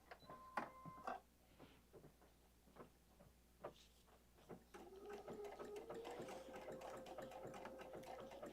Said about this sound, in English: I'm just going to test out this applique stitch to see if this is one we like, just off to the side here before we start.